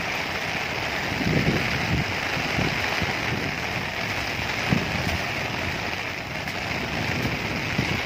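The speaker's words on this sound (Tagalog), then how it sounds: "Lakas ng ulan." Heavy rain pours down in a dense, continuous roar, with scattered louder drops and patters striking nearby surfaces and an umbrella.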